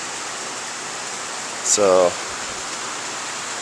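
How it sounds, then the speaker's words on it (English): Heavy monsoon rain pounds down in Lakeside, Arizona, making a steady, dense hiss throughout, with a single short spoken word briefly heard above the downpour. "Today is just pounding rain though, and usually it's not quite such an aggressive downfall."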